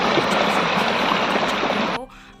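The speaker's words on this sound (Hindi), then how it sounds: "तो ये पानी देखो कितनी ज़्यादा फ्लो" A fast, heavy rush of stream water runs in a channel feeding a water-powered flour mill (gharat) in the hills. The loud, continuous broadband roar drops away abruptly near the end, leaving quieter background.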